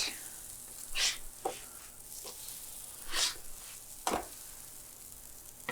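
Scrambled eggs from a big two-dozen batch cooking in a pan, with a steady soft sizzle broken by several brief scraping swishes as a utensil stirs them.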